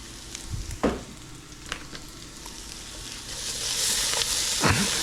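Tomato paste sizzling in rendered fat over higher heat for carne con papas, a steady frying hiss with a few stirring scrapes that swells louder toward the end.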